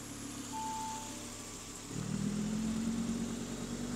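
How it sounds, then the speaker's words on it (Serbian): An Audi R8 V10 Plus fires up: quiet background first, then the engine catches near the two-second mark and settles into a louder, steady mid-pitched rumble, with no one talking. "sad ćemo da upalimo automobil"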